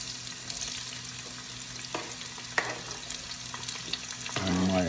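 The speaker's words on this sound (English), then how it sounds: "And I'm gonna let this saute, guys." Onion, scallion and hot pepper sauté in a hot pan with a steady, moderately loud sizzle, broken by a few scraping stirs and a louder frying surge at the end.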